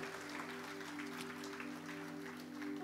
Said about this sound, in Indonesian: Kasih tepuk tangan yang meriah bagi Tuhan